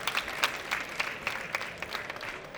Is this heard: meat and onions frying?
no